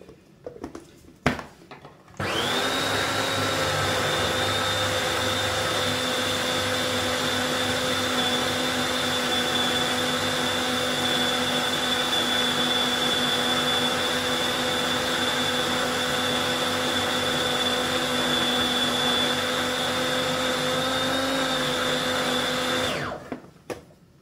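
A food processor chops food with lemon juice added, running as a loud, steady whir with a constant pitch for about twenty seconds. A few clicks and knocks come before it starts, and the motor spins down at the end.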